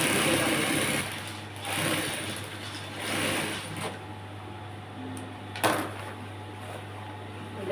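Sewing machine top stitching a skirt lining, a faint steady motor whir with soft mechanical rattling and a few small clicks, no voices.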